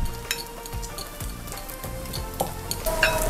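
Sausage frying in a pan during home cooking of fried bread and fritters, a steady close sizzle with occasional clinks and stirring scrapes throughout.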